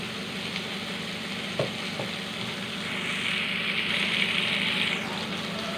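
Boiled green mung and masoor dal, cooked with salt, goes into a hot pan. A steady sizzle swells into a louder, hissing fry partway through, with a couple of soft knocks.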